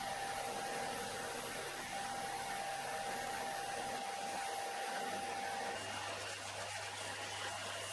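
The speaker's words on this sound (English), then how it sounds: "I moved over to the bench sander just to refine and get everything to the right shape" A bench sander runs continuously while shaping small wooden parts for a bandsaw rip fence, a steady loud motor whir with abrasive grinding and a slight shift in pitch partway through.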